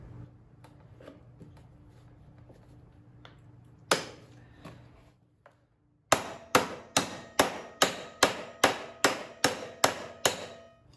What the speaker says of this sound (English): grab onto it with a pair of vice grips and then tap the vice grips with a hammer